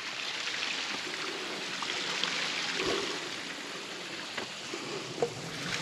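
Water runs through small channels at a forest campsite in the Angelina National Forest, a steady broadband rushing and trickling that stays continuous, with a few faint knocks and splashes rising briefly above it.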